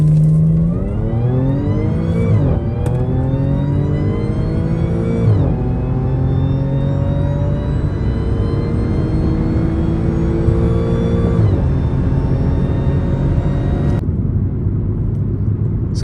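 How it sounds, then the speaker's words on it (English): A tuned Audi S4 engine revs hard during a launch-control start, its pitch climbing through several gear-like rises, loud and close throughout, before cutting off abruptly near the end. "that's how you do a launch on an S4"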